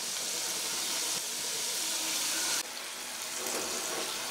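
Gorumeeti dough sweets fry in hot oil with a continuous bright sizzling hiss that holds steady throughout, changing slightly in texture partway through.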